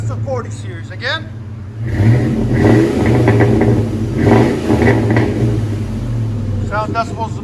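Deep, close exhaust rumble from a Ford F-150 running a Flowmaster 40 Series system swells through a few quick revs, with a person speaking before and after.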